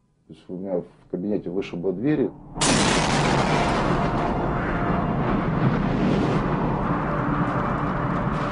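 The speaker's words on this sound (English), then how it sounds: "Seconds after the first blast, we heard the second, a massive explosion." A few spoken words, then a sudden massive explosion at the Chernobyl nuclear plant bursts in, its loud roaring rumble sustained and slowly rolling on for several seconds.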